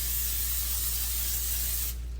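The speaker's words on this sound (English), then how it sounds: "Gonna spray it a little because I don't want it to stick." Cooking spray hisses from a can into a pan, one steady close spray lasting about two seconds before stopping.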